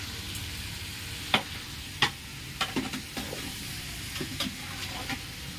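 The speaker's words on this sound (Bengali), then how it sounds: "হাঁসের ডিম ভাজা" Duck eggs fry in a pan with a soft, continuous sizzle, broken by several sharp clinks and scrapes of a utensil against the pan.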